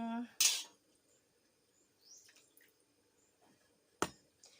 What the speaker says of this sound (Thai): น้ำมันจะเยอะไปเดี๋ยวขอตักออกนิดนึง